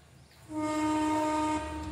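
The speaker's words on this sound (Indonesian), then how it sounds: "Kereta api itu berangkat tepat waktu." A train horn or whistle sounds once as the train departs on time, a steady tonal blast lasting about a second, loud and fairly near, with low rumble underneath.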